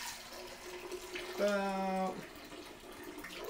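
Nut milk pouring into a blender, a brief smooth liquid pour lasting under a second amid quiet room tone, with someone talking before and after.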